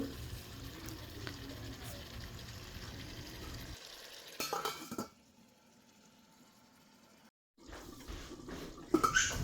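Farm-raised chicken meat being cooked in a pot on a stove, with steady sizzling and stirring noise that drops out briefly midway before resuming with a few louder clatters near the end.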